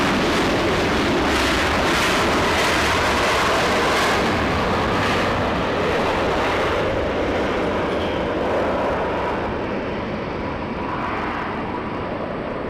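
A Lufthansa airliner taxis to park at Los Angeles, its loud, continuous jet engine rumble and whine filling the span close by, easing slightly toward the end.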